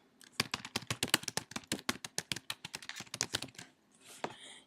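Notes being typed on a computer keyboard: a quick, steady run of crisp, close key clicks, about twenty strokes in under four seconds, before a brief pause and a softer shuffle.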